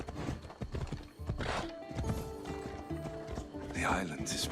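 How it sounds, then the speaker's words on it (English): A horse gallops in Assassin's Creed Odyssey, with rhythmic hoofbeats, a neigh near the end, and people talking over the riding. "Oh, you actually gave us a horse this time."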